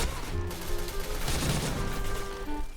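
Gunfire in a Point Blank deathmatch, dense overlapping shots and bursts that continue nearly unbroken, loud and close.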